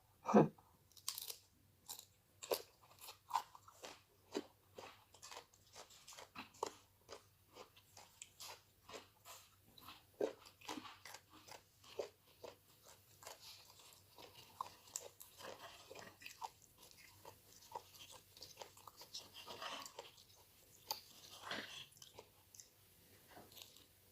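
Someone gnawing and chewing pickled crab with papaya salad, a long run of close, wet crunches, bites and sucking sounds with irregular rhythm and no talk.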